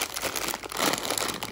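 A plastic bag filled with flour crinkles and rustles close up in a short, continuous burst of crisp crackling.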